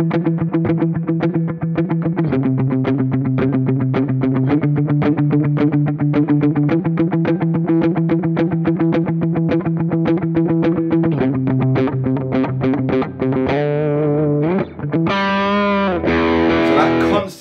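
A distorted electric guitar riff built on just three notes, picked in constant rapid sixteenth notes, plays loud and steady with an effects-heavy tone, shifting notes every couple of seconds and ending with a brief higher flourish.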